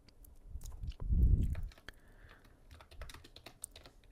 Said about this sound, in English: I will do a couple of typing stuff for you right now.